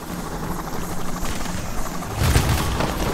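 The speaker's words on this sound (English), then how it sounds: "Helicopter's on the roof!" A helicopter's rotors thrum steadily and loudly in the video game Payday: The Heist, with a burst of gunfire and booms layered over it partway through.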